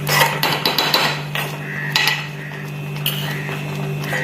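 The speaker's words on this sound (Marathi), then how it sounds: "व्यवस्थित असं मिक्स करून घेते" A metal spoon clinks and scrapes against a pot while jaggery is stirred into ragi kheer, with a quick run of sharp taps at first, then a softer scrape over a low steady hum.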